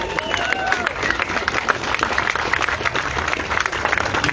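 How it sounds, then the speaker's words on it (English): Applause from the crowd at a carpenters' union tax fraud rally in Boston, a steady wash of clapping with shouts mixed in, loud and close throughout. "So give Sal a big round of applause."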